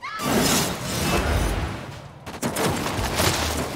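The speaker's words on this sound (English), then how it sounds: "did he really just flashbang there?" A flashbang and gunfire in the battle royale game Apex Legends: a dense, loud wash of rapid shots and crackling bursts fills the whole moment, with a brief dip midway before the firing surges again.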